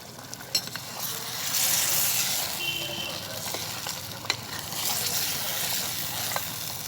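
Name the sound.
stirring mutton biryani in a clay pot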